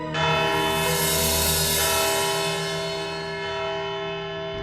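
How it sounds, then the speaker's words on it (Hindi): A single loud courtroom bell strikes and rings out, its bright metallic tone slowly decaying over several seconds. "घंटी बज गई"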